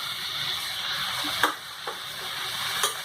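Chana masala spices, chili powder, salt and ginger-garlic paste, sizzle steadily in hot oil, with a few sharp stirring clicks over the continuous close frying hiss.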